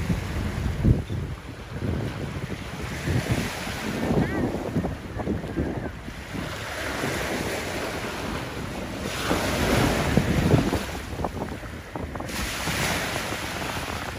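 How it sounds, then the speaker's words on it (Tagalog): Strong, gusting wind roars across the microphone beside crashing surf on Manila Bay, rising and falling in waves for the whole stretch with no voices. "Malakas kasi yung hangin, eh."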